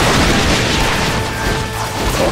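A loud, dense volley of fire booms continuously in the arcade game Eiketsu Taisen, a sustained roar of blasts and crashing noise without a break.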